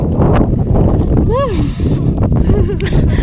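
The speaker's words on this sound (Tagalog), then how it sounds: "Lakas ng hangin" Steady wind roars and buffets the microphone at Gulugod, with a brief rising whistle partway through.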